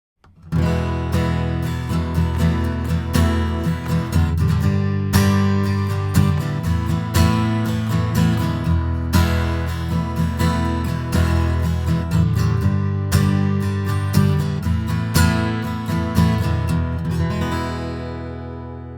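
A jumbo acoustic guitar played continuously with strummed, ringing chords, close-miked at the sound hole so the low body resonance is full and boomy, steady and loud throughout before fading at the end.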